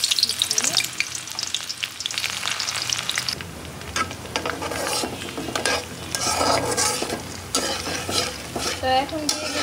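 Chopped onions hit hot oil in a pan and sizzle loudly and steadily, close up, with scraping stirs and the clink of utensils against the pan.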